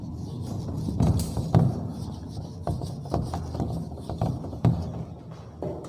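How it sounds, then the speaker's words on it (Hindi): Writing gets rubbed off a classroom board with steady, close scraping strokes, an uneven rasping rhythm broken by a few sharper knocks. "मैं इसे रब कर देता हूँ क्योंकि ये ज़्यादा उधर तक हो जा रहा है।"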